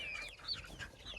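Chickens cluck close by at the gate of a smallholding pen, giving a short, busy run of overlapping high clucks and squawks.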